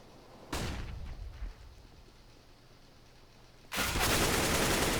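Gunfire bursts from a Counter-Strike match on the Dust 2 map, loud and broadband, a roughly one-second volley followed by a quieter stretch, then a second sustained burst of rapid shots to the end.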